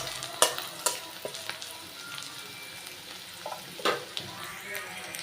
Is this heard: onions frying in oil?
yes